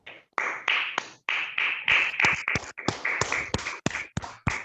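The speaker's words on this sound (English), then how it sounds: "Let's give Toastmaster Shabri a good round of applause." A small audience at a Toastmasters meeting in Bangalore gives a round of applause. It sounds as a close, sparse series of sharp individual claps with irregular timing, a few hands rather than a full crowd.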